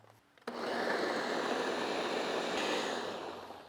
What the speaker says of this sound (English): Drop it all in a blender.